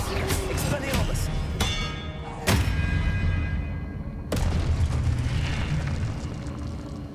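Expelliarmus spell cast in Hogwarts Legacy on PS5, with loud booming magical bursts at several points over a steady game soundscape of rumbling effects.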